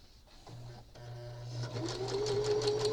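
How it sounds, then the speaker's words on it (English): A sewing machine stitching fabric pieces for a needle book cover, a steady close mechanical whir that starts after a brief pause and builds into continuous running with a rising hum. "And then I'm going to start stitching."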